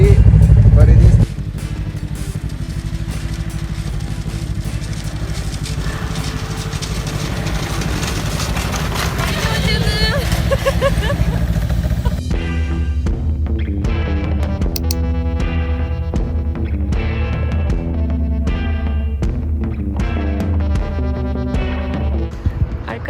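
A snowmobile engine throbs and drones steadily while riding over bumpy snow near Rovaniemi, Finland, with the motor loud and close throughout and people talking over it.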